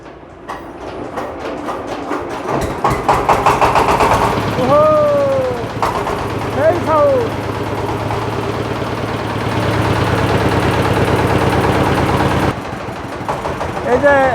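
A reconditioned diesel generator engine starts and settles into a loud, steady running drone that cuts off near the end, while someone talks over it.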